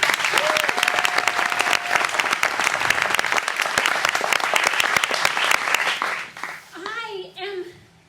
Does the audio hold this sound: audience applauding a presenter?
yes